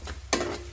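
Prawns fry in ghee in a pan, a soft background sizzle broken by one sharp hiss and clatter of stirring, heard up close.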